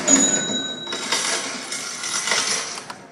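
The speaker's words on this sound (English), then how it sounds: "say something like the cash register sound in Money." A cash register sound effect from Pink Floyd's Money: coins clink and jingle with a ringing metallic chime, a short bright burst of clatter heard alone.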